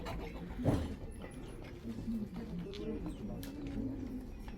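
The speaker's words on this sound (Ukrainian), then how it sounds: "Вон які голубочки і курочки тут." Soft, low pigeon cooing rolls on through the short stretch among pigeons and chickens at Bukovel, Ukraine, with faint chirps and light background noise.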